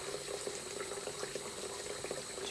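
Shower water runs steadily as a constant close hiss with faint splashes, no voices.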